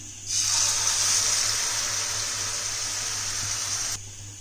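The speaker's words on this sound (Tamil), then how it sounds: "அந்த மிக்சி ஜார் இருக்குல்ல அதை வாஷ் பண்ணி அந்த தண்ணி அப்படியே சேர்த்திக்கோங்க" Rinse water from a washed mixer-grinder jar poured into a pan of hot oil with ground paste for a sambar-style dish gushes steadily and nearby for about four seconds, a broad hissing pour with no talk.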